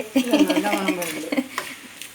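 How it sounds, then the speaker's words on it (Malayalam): Chicken stirred in hot oil in a pan for a Palakkad-style ash gourd and meat curry gives off a short run of scraping and light sizzling, with a voice humming or talking over it. "എണ്ണയിൽ നമ്മുടെ ഈ ചിക്കൻ ചെറുതായിട്ടൊന്ന് പൊരിഞ്ഞു വരണം അതുവരെ ഒന്ന് നമ്മൾക്ക് ഇങ്ങനെ ഇടയ്ക്ക് ഒന്ന് ഇളക്കി കൊടുത്തിട്ട് വേവിച്ചെടുക്കാം"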